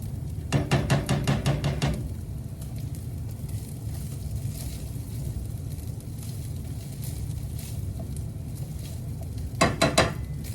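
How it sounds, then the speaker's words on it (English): Rubber spatula stirring eggs in a sizzling pan for a trash omelet, a steady frying hiss throughout with two short bursts of scraping, clattering strokes near the start and end. "stir the eggs twice using the rubber spatula"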